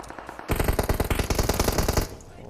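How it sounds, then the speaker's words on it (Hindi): Rapid automatic gunfire in a mobile battle-royale shooter, a dense burst of loud close shots running for about a second and a half with no talk, bracketed by quieter game ambience. "यहाँ पे सब जगह से फायर हो रहा था"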